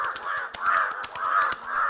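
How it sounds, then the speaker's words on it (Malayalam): Two crows fight, cawing harshly and rapidly in repeated, overlapping calls, loud and close, with sharp clicks between the caws. "2 കാക്കകൾ വഴക്കുണ്ടാക്കുന്നത് കാബിൽ ശ്രദ്ധിച്ചു"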